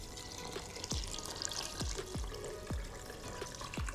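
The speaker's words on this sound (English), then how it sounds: "It's just covering with water." Water is poured into a pot over fish and vegetables for a Hungarian Christmas fish soup, faint and soft, with a low wash broken by several distinct plops and gurgles at uneven intervals.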